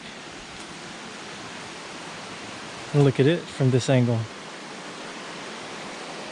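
Steady rush of a woodland creek flowing near an old grist mill dam in Alabama fills the background, with a person talking briefly over it partway through.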